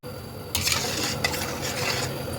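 A pot of hibiscus drink with lemon slices is set on the stove with a brief clatter of metal. A continuous sizzling, rushing noise follows, with a few light knocks.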